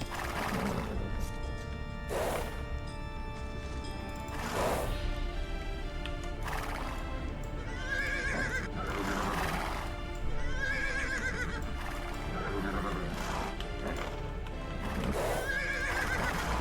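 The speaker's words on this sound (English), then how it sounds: "Couple horses over here." Horses in the strategy video game Age of Empires II neigh several times over a dense, continuous clatter of hooves, loud and close with a busy battle-like background.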